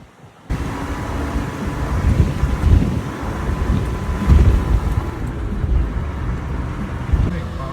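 A small 660cc vehicle engine hums while climbing a mountain road near Nasushiobara, Japan, producing a continuous low drone that swells and eases. Voices talk over the engine.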